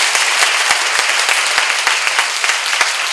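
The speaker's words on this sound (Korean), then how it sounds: "왜 박수 세게 하죠?" A church seminar congregation claps hard and fast, a loud, dense burst of applause with sharp individual claps popping out of the steady roar throughout.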